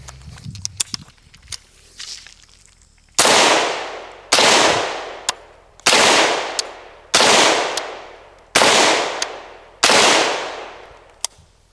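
Six loud, sharp rifle shots from a KUSA KR-103 ring out at a steady, unhurried pace, each with a long decaying echo, after a few seconds of quieter handling clicks and rustle.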